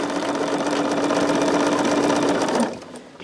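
Home sewing machine stitching a side seam on a jelly roll quilt, a loud close steady whirring hum running continuously, then stopping abruptly near the end.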